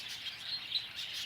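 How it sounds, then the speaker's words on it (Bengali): Birds chirp softly at the spot, a faint high twittering with a few brief peaks, heard among pigeons and other birds kept in an enclosure, with no talk. "সব পায়রা এগুলো।"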